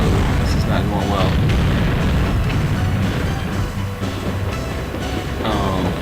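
Explosions and heavy booms from a train being blown up in the video game Battle Tanx: Global Assault, loud and continuous with rumbling bursts, while people talk over the game.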